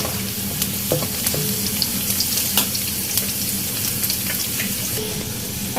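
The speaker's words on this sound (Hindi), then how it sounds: "इन दोनों चीज़ों को हमें अच्छी तरह तलना है, इसका कलर चेंज हो जाए हमें इसको इतना तलना है।" Chopped onion frying in hot oil for a daal tempering, a dense continuous sizzle with small crackles and occasional clinks of stirring, close and loud with no talk.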